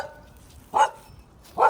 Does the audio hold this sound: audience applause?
no